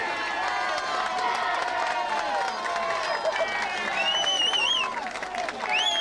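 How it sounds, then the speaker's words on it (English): Burton Albion football fans in a stadium crowd clap and cheer in a sustained, lively roar, with whistles and shouts rising over the noise. "takes the applause of the Albion fans"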